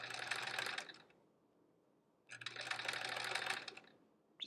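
A sewing machine stitches curved quilt pieces in two steady whirring runs separated by a quiet pause, close and loud with a low motor hum, no talk.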